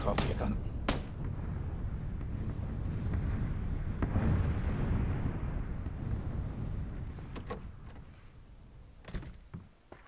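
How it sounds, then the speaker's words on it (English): Gunfire in PUBG (PlayerUnknown's Battlegrounds) during a squad match: a few sharp, distant shots pop out over a dense rumbling game ambience, with scattered cracks near the start and end. "Yeah, they're shooting each other"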